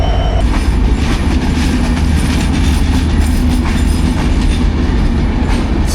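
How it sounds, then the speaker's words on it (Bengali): The Sagardari Express pulls out of Chuadanga railway station in Bangladesh, bound for Khulna, with a loud, steady rumble and clatter of wheels and carriages heard up close, with no voices. "চুয়াডাঙ্গা রেল স্টেশন থেকে সাগরদারি এক্সপ্রেস ছেড়ে চলে যাচ্ছে ঠিক খুলনার অভিমুখে"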